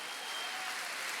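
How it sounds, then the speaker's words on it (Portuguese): Congregation applauding during an evening church service, a dense steady wash of clapping heard at moderate distance without clear voices. "vamos aplaudir melhor isso aí, meu amado"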